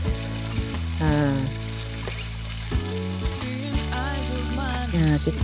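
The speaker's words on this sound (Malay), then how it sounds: "Proses terusnya kita goreng ikan bilis." Small anchovies (ikan bilis) fry in hot oil, giving a steady, dense sizzle close by that runs continuously with occasional stirring, while a melodic tonal sound plays underneath and no one talks.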